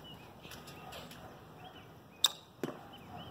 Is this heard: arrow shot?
yes